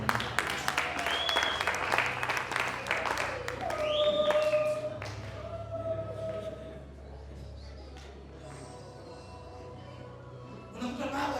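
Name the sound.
applause for mothers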